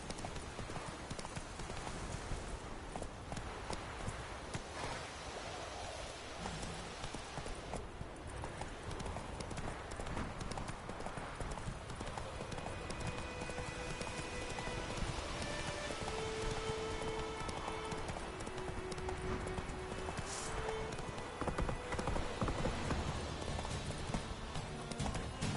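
Roach the horse trots along in The Witcher 3, steady rhythmic hoof clip-clops over a soft rain-like hiss, with brief tonal notes from the game around the middle.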